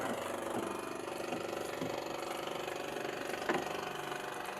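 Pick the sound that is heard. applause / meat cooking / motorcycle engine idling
motorcycle engine idling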